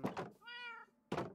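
A cat in Minecraft gives a single clear meow between two short thumps, alone and without talking.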